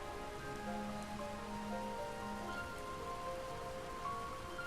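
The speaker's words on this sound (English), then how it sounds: "But the rain is, heavy, and it's weighing me down as I fly." Heavy rain falls in Sky: Children of the Light, a dense, steady patter hitting surfaces throughout, overlaid with soft sustained musical tones.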